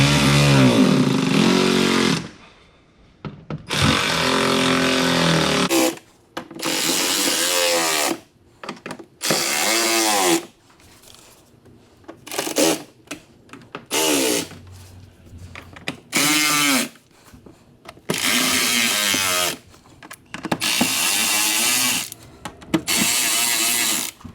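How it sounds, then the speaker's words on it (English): Ratchet wrench tightening bolts on the air filter housing of a 2012 Audi R8 V10, heard as bursts of rapid metallic clicking separated by short pauses, close and fairly loud. "we'll actually continue tightening these things down, and hopefully it'll move those guys into place"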